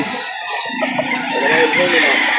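A Golden Boy sweater-line rooster, about eight months old, crows loudly and close at a poultry market in Lipa City, Batangas, its rising call filling the moment with faint voices behind.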